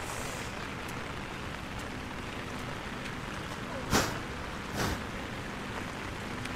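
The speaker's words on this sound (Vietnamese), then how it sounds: "Đấy, hôm nay trời mưa lắm các bạn." Heavy rain falls at Silver Waterfall in Sapa during the stormy rainy season, a constant soft wash of noise broken by a couple of brief closer knocks.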